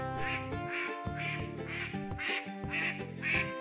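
Mandarin duck quacking in a steady run of repeated nasal calls, close and fairly loud, with each quack following quickly on the last and no voices over it.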